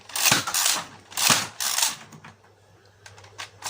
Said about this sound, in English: I'm holding the trigger down, and I just pull this back, and it fires, which is pretty cool